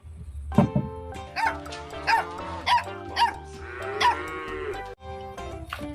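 A dog barking as an animal sound effect: a run of short, evenly spaced barks, clear and close, followed by a longer drawn-out cattle-like moo toward the end.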